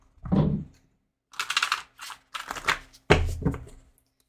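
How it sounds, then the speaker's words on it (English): Tarot cards are shuffled by hand in several short bursts of riffling and flicking, close and crisp, separated by brief silences. "Let me shuffle these a little bit more."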